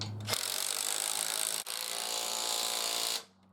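A power driver whirs steadily as it drives a coach screw into wood, with a brief stutter midway before the motor stops.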